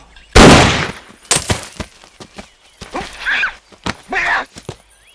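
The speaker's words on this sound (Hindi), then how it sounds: "गोली चला दो।" A loud, close gunshot cracks out during shooting practice in the film Sholay, then a second sharp bang, followed by a few short vocal sounds.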